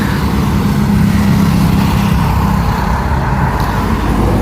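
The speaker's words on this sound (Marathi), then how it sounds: "किरकोळ गाड्या जात आहेत" Traffic passes on a road beside a roadside eatery in Kolhapur, a steady loud rumble of vehicles with no pauses and no talk.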